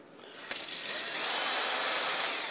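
A case trimmer cuts a .38 Special/.357 Magnum brass case: a sharp click, then a motor whine that rises and holds as a steady, bright grinding hum close by.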